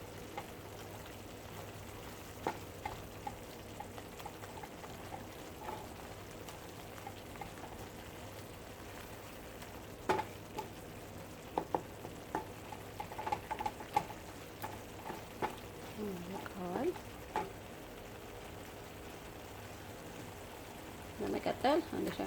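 Cooked fava beans pressed and mashed with a ladle in a pan while making ful, giving scattered soft scrapes, squishes and light taps that cluster in bursts over a quiet kitchen background.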